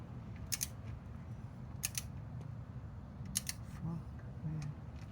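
A torque wrench clicks while tightening the oil drain plug on a 2025 Yamaha MT-07 motorcycle: a few sharp, bright ticks spaced apart over a low, steady room rumble.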